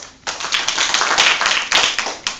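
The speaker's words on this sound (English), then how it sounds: "A big round of applause." Toastmasters meeting room applause from a small group, close and fairly loud, with distinct hand claps arriving in uneven bursts for a couple of seconds.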